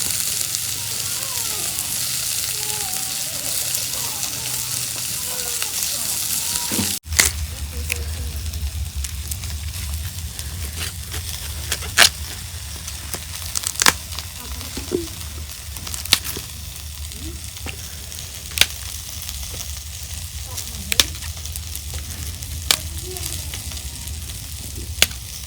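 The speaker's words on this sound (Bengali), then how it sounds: "মাছ ভাজা হচ্ছে, এখন আমি মাছ নামে নেই।" Kalbaus fish sizzles steadily in a pan of hot oil, a continuous hissing fry with sharp crackles and occasional clinks of a utensil, after a louder stretch of sizzling at the start.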